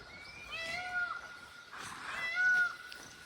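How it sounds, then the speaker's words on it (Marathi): A peacock calls out twice amid foggy hillside farmland during the rice-planting season, loud mewing wails with long falling tones, separated by a brief pause. "मोराचा आवाज येतोय."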